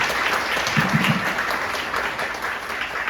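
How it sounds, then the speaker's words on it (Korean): An audience at a maritime sovereignty policy forum in a National Assembly library meeting room welcomes a speaker with steady, even applause. The dense clapping continues throughout with no talk over it. "큰 박수로 배학영 교수님을 모시겠습니다"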